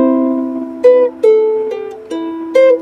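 Close-miked fingerstyle ukulele plays a phrase, five distinct plucked notes stepping over a ringing open-string chord at an easy, unhurried pace, with no voices.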